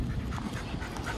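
Thirteen-month-old Irish wolfhound puppy panting: soft, rapid, rhythmic breaths, close and fairly quiet, with no voices.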